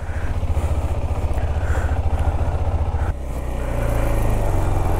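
A KTM Adventure motorcycle's engine idles with a close, rhythmic thump, then rises in a smooth rev as the bike pulls away, loud throughout with some clatter.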